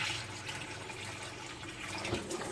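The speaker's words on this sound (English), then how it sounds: "fill the base of the pressure meter with water that we've previously gotten to temp" Water at 23 °C runs steadily into the base of a pressure meter at a sink during calibration, a continuous close splashing and gurgling pour with no talking.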